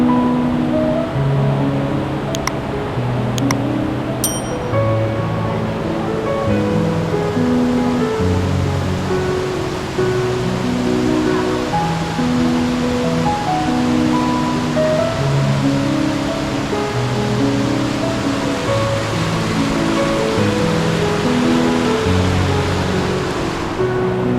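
The Hidden Falls waterfall at Hidden Valley Springs in Laguna roars as a loud, steady rush of water, continuous and close throughout.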